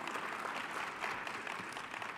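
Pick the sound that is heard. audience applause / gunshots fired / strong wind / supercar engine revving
audience applause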